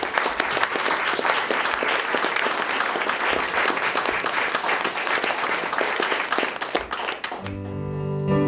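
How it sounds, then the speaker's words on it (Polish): An audience applauds the Mienia River Gospel Choir with a dense, loud, sustained round of clapping. It cuts off abruptly near the end as soft tonal music begins. "Wielkie brawa."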